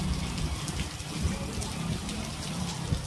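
Steady rain patters and splashes on surfaces, a continuous close hiss of falling water.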